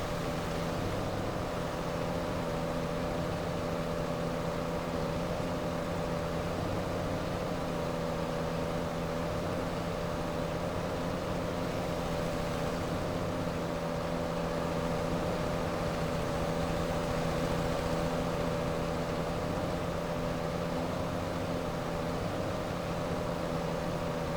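A tractor engine in the Farming Simulator 2025 video game hums in a steady, unchanging drone with a constant low tone throughout.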